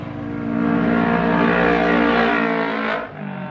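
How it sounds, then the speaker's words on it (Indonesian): A motorcycle passes along a roadside, its engine rising to a loud, close drone and whine before dropping away as it moves off. "ada motor lewat ya, biasa pinggir jalan"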